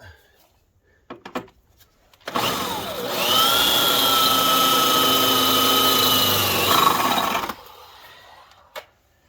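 A power drill bores out spot welds on a Ford F-150 cab during rocker panel and cab corner removal, one sustained whining run of about five seconds between brief clanks.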